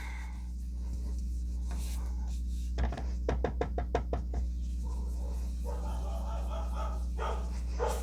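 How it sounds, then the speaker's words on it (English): A quick burst of repeated sharp barks from a dog, partly muffled, cuts in midway over steady background noise. "my dog's barking in the background"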